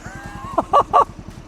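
A cheap Walmart kids' tractor's small engine idles very quietly, a low, even putter of rapid pulses, with a few brief honk-like tones over it partway through.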